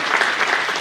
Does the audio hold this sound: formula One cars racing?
no